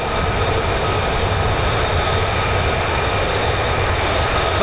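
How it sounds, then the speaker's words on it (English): A US Air Force F-35A fighter jet of the 48th Fighter Wing at RAF Lakenheath, a loud, steady broadband jet roar that holds constant throughout with no voices. "So we're looking at the F-35A flown by the 493rd Fighter Squadron, the Grim Reapers"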